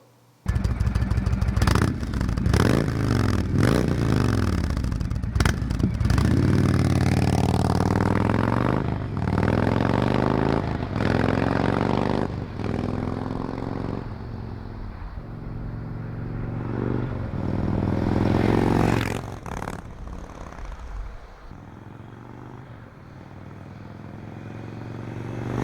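A motorcycle engine fitted with a Tab Performance header runs loudly and steadily on the road, rising and falling as it accelerates and shifts gears, with wind and road noise throughout.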